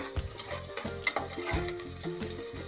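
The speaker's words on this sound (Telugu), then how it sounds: "ఆనియన్స్ బాగా వేగినాయంటే అంత టేస్ట్ ఉంటుంది." Onions sizzle in a pan for tomato bath, with a soft, continuous frying crackle broken by regular scraping strokes of a stirring spoon, close and fairly quiet.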